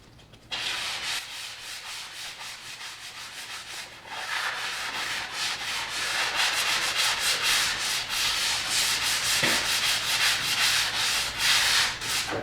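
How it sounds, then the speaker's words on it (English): Wood patches are hand-sanded with a sanding block in steady back-and-forth strokes, a close, continuous rasping scrape that grows louder and more vigorous partway through, with no talking. "We're going to get started on sanding down these wood patches."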